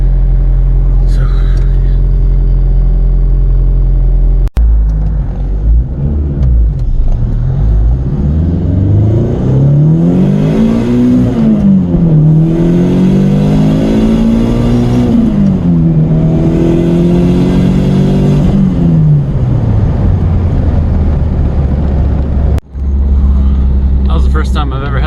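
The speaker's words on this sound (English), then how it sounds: "first time I've ever had the shift light come on at like 7600 RPM" A car engine revs hard up toward 7600 RPM. The loud, close roar climbs, dips and climbs again in long sweeping waves for about twenty seconds before dropping back to idle.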